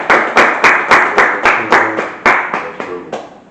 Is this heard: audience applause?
yes